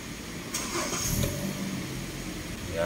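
A Hyundai car with a check-engine fault and hard-starting trouble cranks and fires up nearby, then settles into a continuous mid-pitched engine rumble that swells slightly toward the end.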